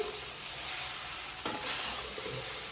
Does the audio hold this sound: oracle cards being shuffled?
no